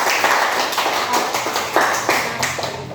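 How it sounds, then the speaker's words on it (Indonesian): A classroom of students claps together in a quick, dense burst of applause, close and lively, with rhythmic peaks and no voices over it. "Tepuk tangan dulu."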